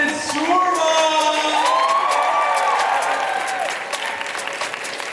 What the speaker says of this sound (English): please give one more round of applause to Wisconsin Surma!